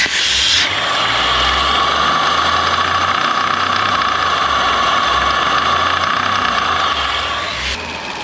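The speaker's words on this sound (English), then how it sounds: "So this is a fully running engine" An Audi RS5 B9 engine runs steadily in a workshop, a continuous close mechanical hum and whir with a low pulsing undertone at idle, while a second similar engine runs nearby; no voices are heard.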